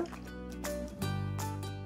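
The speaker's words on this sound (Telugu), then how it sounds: "దాన్ని బట్టి అంత వాటర్ మనము ప్యాన్లో వేసుకోవాలన్నమాట" Water poured into a pan on the stove for a ginger and jaggery drink, gurgling and dripping in short bursts close by, with a faint steady hum underneath.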